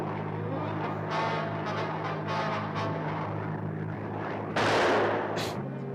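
Gunfire and a propeller airplane sound in the 1961 film The Beast of Yucca Flats. A droning engine hum runs beneath several sharp cracks, ending in a loud, close burst of shots.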